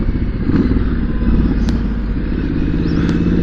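A motorcycle rides at low speed through town, its engine loud, close and lumpy with a choppy, uneven throb that runs steadily for the whole stretch.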